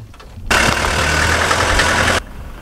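Friends' vehicle engine revving up as they pull away, a loud close rumble that starts abruptly, holds steady for under two seconds, then cuts down to a softer idle-like drone.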